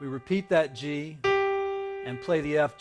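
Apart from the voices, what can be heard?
No distinct noise like a dog, phone or traffic.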